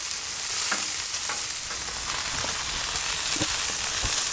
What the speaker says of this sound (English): I'm going to get the rolls toasting real quick.